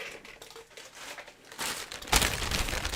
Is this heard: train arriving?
no